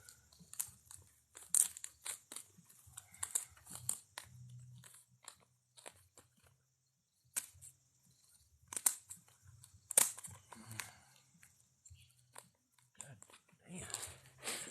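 Soft crunching snips of dull scissors come in irregular bursts, close and faint, with brief quiet gaps and some low background noise.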